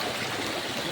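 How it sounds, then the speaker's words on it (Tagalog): Strong, steady rush of water flowing through a barangay water supply line toward a storage tank, a continuous close broadband flow with no pauses. "Dire-diretso yung malakas na daloy ng tubig dito bago mag-deposito."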